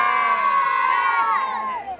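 A large crowd at a village jagran for Mata Mahamai in Asal roars a religious jaikara response together, a loud, sustained mass shout that tapers off near the end.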